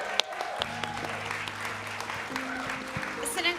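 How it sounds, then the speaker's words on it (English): An audience at a food and film event during Sundance gives steady, moderately loud applause under a voice speaking over it. "Keep that applause going, everyone."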